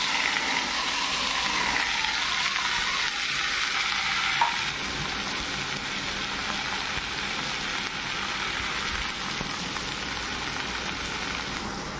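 Salted pumpkin leaves fry in hot oil with a steady, hissing sizzle and soft stirring noises, close and continuous throughout.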